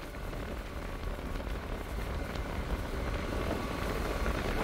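Steady rain falls and patters on a surface in Anakapalli, a dense continuous hiss without pauses and no voices.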